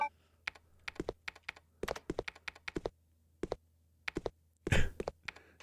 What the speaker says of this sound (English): If this is a zombie typing